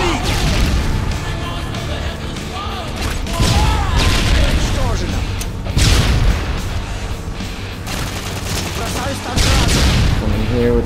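Repeated booming grenade-launcher explosions and gunfire in a first-person shooter video game, loud bursts arriving every few seconds amid a dense clatter of game effects, with a voice talking over the action.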